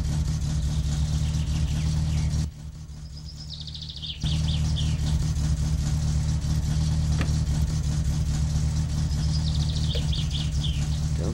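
AI rally car engines racing in My Summer Car, a loud continuous droning rumble with short rising whines, briefly dropping away for a moment, with birds chirping faintly in the background.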